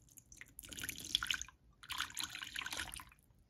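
Candle wax mixture is poured slowly into a container, giving two soft, trickling liquid bursts separated by a short pause, quiet and close.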